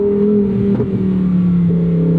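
The engine of a 2024 Lamborghini Huracan Sterrato drones loudly behind the driver, a steady low tone that shifts pitch once or twice as the revs change, heard alone without talk.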